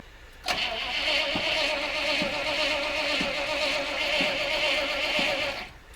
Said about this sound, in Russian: Стартер работает, это уже хорошая новость.